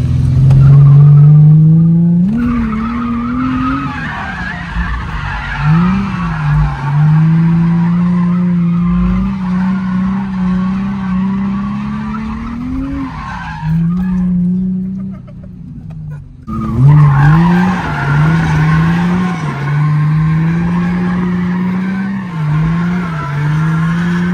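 Acura RSX drifting in a kanjo-style street run, with long loud tire squeals sweeping up and down over the engine's drone, a short break in the middle, then the squealing resumes.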